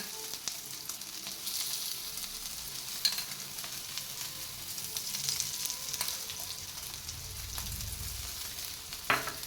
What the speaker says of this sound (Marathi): याला आता कडनं तेल सोडून घ्यायचं